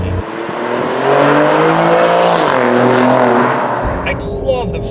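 A 2017 Alfa Romeo Giulia Quadrifoglio with its V6 engine pulls hard under way, a loud sustained drone rising and shifting in pitch, with speech-like sound mixed in, before the engine note drops away near the end.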